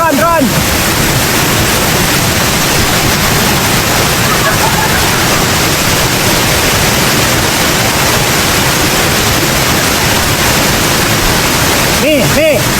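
Strong water crashing down a waterfall at Ulu Guruh during abseiling, a loud, dense, unbroken roar filling the whole clip, with faint voices buried underneath.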